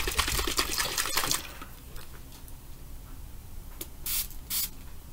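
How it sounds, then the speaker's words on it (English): Quick hissing bursts of a Perfect Pearls mist spray hit a handmade card, a clustered run of sprays at the start, then two more short puffs near the end, close and crisp with no talk. "Spray that a couple times."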